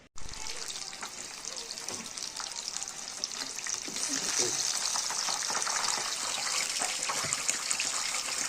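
Fish fry in hot oil in a home kitchen, giving a loud, steady crackling sizzle that grows fuller partway through. A voice can be heard speaking under the frying.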